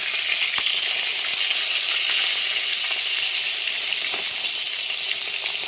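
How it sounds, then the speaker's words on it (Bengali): Rohu fish sizzles steadily in hot oil, a loud continuous crackling hiss with no voices. "বাকি মাছগুলো ভেজে নেব।"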